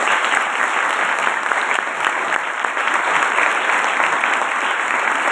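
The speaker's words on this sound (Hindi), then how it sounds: "बजाओ ताली" Congregation clapping hands together during a church service, a loud continuous roar of many hands applauding without pause, close and full, with no speech on top.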